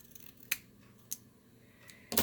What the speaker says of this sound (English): So I'm going to cut off about this much.